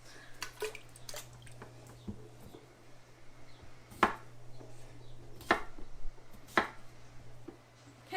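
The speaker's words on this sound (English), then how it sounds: "So I finished cutting the potatoes." Knife chopping potatoes on a cutting board, heard as a few sharp, separate cuts spaced a second or so apart over faint background hum, close and fairly quiet, with no talking.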